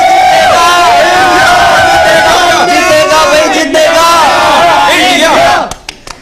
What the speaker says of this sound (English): So can we have a final cheer for Team India?